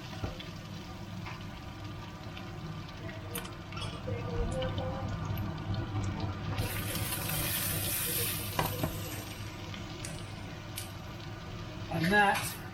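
Pork dumplings frying and being stirred in a pan: a steady soft sizzle runs throughout, with occasional scrapes and clatters from the stirring, louder near the end, and a voice talking over it.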